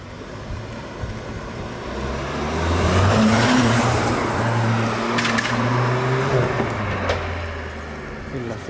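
Seat Leon Cupra gendarmerie police car driven gently, its engine hum rising and falling with low tonal drone under occasional speech inside the cabin.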